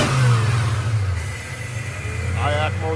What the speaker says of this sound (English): IAC motor kicking in.